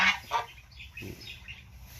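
Geese on a Thai mixed farm honk and cackle in a few quick calls, then fall to softer murmuring against a quiet outdoor background; no talk.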